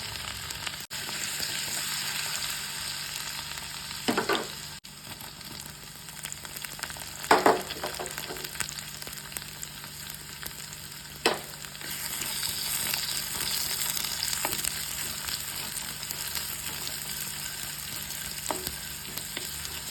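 Shallots and curry leaves frying in hot coconut oil for a crab roast, a continuous loud sizzle with several sharp spatula scrapes and stirs breaking through.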